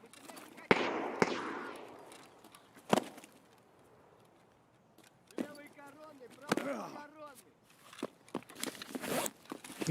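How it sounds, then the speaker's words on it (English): Gunfire in the Escape From Tarkov video game: several sharp, loud shot-like cracks scattered through the scene, with a quiet stretch in the middle and a voice talking under the later bursts. "Who's shooting at him?"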